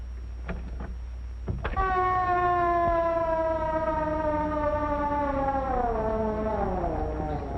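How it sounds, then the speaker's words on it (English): A loud wailing ambulance siren rises in and holds steady, its long harmonic tones sliding slowly downward, over a low rumble. "There's the ambulance."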